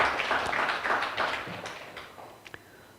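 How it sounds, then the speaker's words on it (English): Dense applause fills the room at a Ugandan foundation panel event as the audience claps for the officials, fading steadily until only a few scattered claps remain at the end. "please join me as we give a round of applause to every official who is doing hard work for this day."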